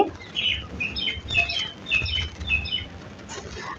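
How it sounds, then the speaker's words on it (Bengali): Small birds chirp outside near a kitchen, a string of quick bright tweets and squawks repeating in short bursts over faint low background noise. "আপনারা কি পাখির ডাক শুনতে পাচ্ছেন"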